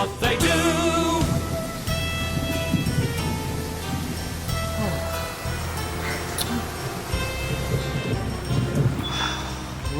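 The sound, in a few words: rain and thunder in a cartoon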